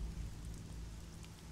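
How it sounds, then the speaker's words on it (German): Soft, steady rainfall in the video game Elex, a faint continuous hiss with low rumble and no distinct drops or voices. "Ist das realistisch, dass der Regen durchkommt?"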